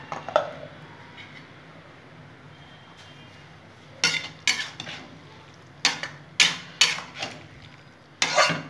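A utensil scrapes and clanks against a pot of bottle gourd with cumin, coriander and chillies, in bursts of close metallic stirring knocks between quiet pauses.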